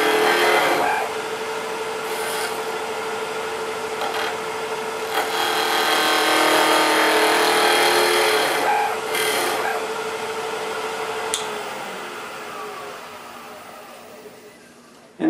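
A skew chisel cuts a pommel on a wood lathe, turning a square section to round, giving a steady, close hissing scrape that swells in the middle and slowly fades toward the end.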